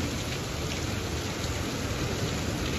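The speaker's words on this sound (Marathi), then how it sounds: "तर एवढा पाऊस चालू आहे बघा हे आता." Heavy monsoon-style downpour at night in Tembhurni, a dense, steady roar of rain that fills the whole scene evenly without letup or voices.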